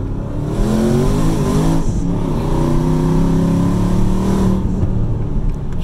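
A twin-turbo, supercharged Dodge Charger Hellcat accelerates hard, engine pitch climbing through gears with a brief shift dip, loud and close, a high whine of open wastegates and turbos riding over the roar.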